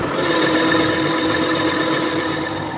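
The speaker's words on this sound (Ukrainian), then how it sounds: "Коли розточив всередині, точу по наружі." A metal lathe turns the outside diameter of a part after boring out a bearing seat, giving a steady, loud grinding whine with a high-pitched ring held without a break throughout.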